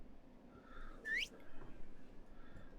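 A single short rising whistle sounds in the video game World of Warcraft, clear and fairly close over a faint game background, with no talking.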